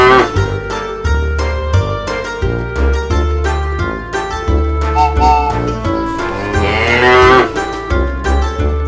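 A cow moos repeatedly over a steady rhythmic backing of music, the lowing rising and falling in several long calls that carry loudly above the beat.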